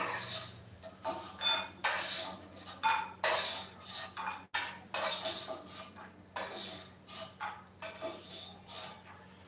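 Reddish roasted peanuts are scraped out of a pan onto a large plate, giving repeated bursts of metal-on-metal scraping and clattering in an uneven rhythm, close and fairly loud, with no talking.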